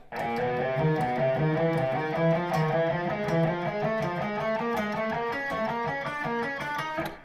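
Electric guitar picks out a steady, even run of single notes in repeating groups of four, a continuous pinky-finger practice exercise with no talking.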